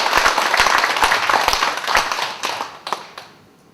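A church congregation claps together in a dense burst of sharp hand claps that fills the room, then thins out and trails away toward the end.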